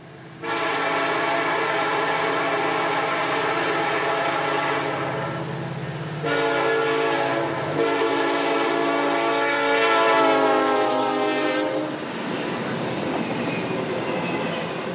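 A Norfolk Southern freight train, symbol Z720, roars past at speed, a loud sustained rumble and rattle of cars rolling by close at hand with a horn-like tone partway through, no voices.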